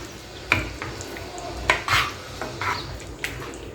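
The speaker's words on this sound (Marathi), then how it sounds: "हे मिक्स करून घेऊया हे पण थोडं मॅश केलं तरी चालेल" A spoon mixes mashed moong dal and jaggery in a pot for puran poli, giving a few soft scraping and clinking stirs close by against quiet room noise.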